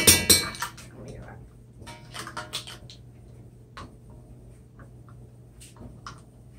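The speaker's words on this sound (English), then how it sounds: "we have 1 cup of Crisco. We're just gonna put in our bowl" Crisco shortening scooped into a mixing bowl: a sharp clatter of a utensil against the bowl at first, then scattered soft scrapes and light clinks that thin out.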